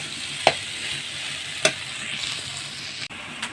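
Kokila fish curry being stirred and fried down in a pan for a Bengali kasha, a steady sizzle close by with a few sharp spatula scrapes and knocks, no voices.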